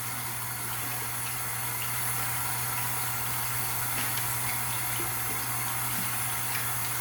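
Hot tap water runs steadily into a sink for rinsing during a bedtime skincare routine, a continuous even hiss with a low hum beneath and no talking.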